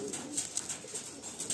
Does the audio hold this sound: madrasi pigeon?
yes